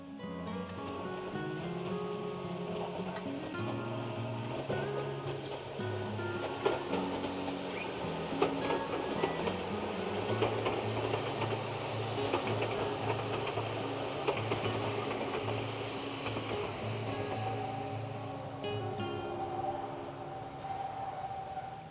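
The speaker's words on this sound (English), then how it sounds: "those are the trains passing over the amazing pair of bridges here." Narrow-gauge Hokusei Line trains roll over a pair of railway bridges, a long continuous rumble with rhythmic wheel clatter and tonal screeching, heard from a moderate distance without talk.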